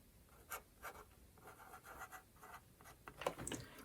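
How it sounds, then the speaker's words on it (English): Fine tip of a Sharpie S Note highlighter writing on paper, faint close scratchy strokes in short rapid bursts, quiet and alone. "Let's see if you can actually write with the tip of this one."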